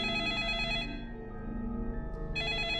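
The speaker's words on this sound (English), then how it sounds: "The sudden ringing of the phone startled everyone in the room." A telephone ringing in the video game 428: Shibuya Scramble, a steady electronic ringtone with sustained tones that cuts off briefly and resumes, loud and alone.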